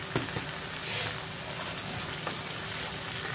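Egg noodles being fried and mixed in a pan give a steady, moderately loud sizzle, with a few brief scrapes and stirring clatters along the way and no talking.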